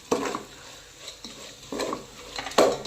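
Garam masala and homemade biryani masala frying in a pan, heard as soft crackling sizzle broken by several scraping stirs of a spatula against the pan, with no talking.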